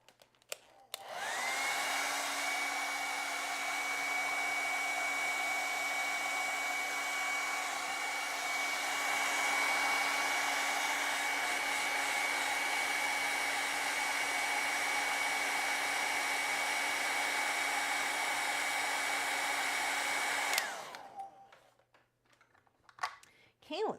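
A hair dryer blowing over wet acrylic paint runs as a steady, loud, even whine and rush for about twenty seconds, then cuts off.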